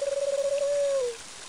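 Carrier pigeon cooing in the video game Mother 3, one short, clear warbling coo lasting about a second, alone and close.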